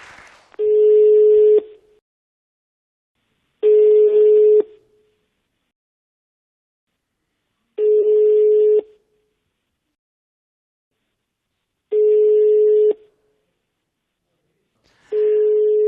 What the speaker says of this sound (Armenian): Զանգահարենք դրան։